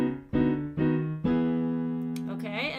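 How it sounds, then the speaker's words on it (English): Gospel piano left hand playing a 1-4 walk-up from B toward E: three rising struck bass notes, the last chord ringing and sustained, with a brief voice at the very end. "We have our 1-4 walk-up"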